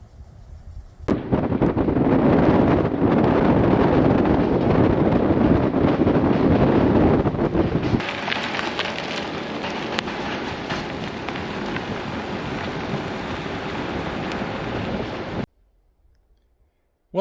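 Motorcycle towing a home-made trailer on a test ride, a loud steady roar of engine and buffeting wind from start to nearly the end, shifting tone partway through, then cutting off abruptly into near silence.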